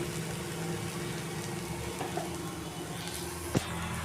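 Spice paste for koi fish curry fries in oil in a pan, a steady low sizzle and bubbling running throughout with a brief louder pop near the end.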